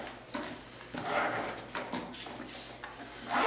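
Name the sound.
paintball marker boxes being opened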